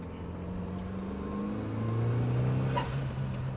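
A turbocharged 1.6-litre Mazda Miata engine drones steadily while driving, its tone climbing and growing louder midway as it revs, then easing slightly, with no talking.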